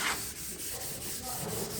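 Sandpaper is rubbed across the body of a Cadillac being prepared in a shop, a faint, steady scratchy rasp with rhythmic strokes.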